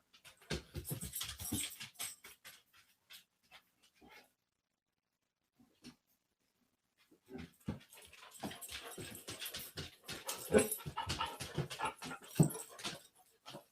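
Dog nearby panting and whimpering in short bursts, a busy stretch, then near silence with a few faint whines, then a return of rapid breathy panting and soft whimpers.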